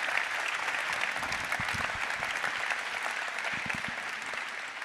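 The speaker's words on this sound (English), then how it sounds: "Applause, please" Sustained audience applause at an aircraft unveiling event for the TBM 980, a dense steady wash of many hands clapping from a large crowd, loud and continuous throughout.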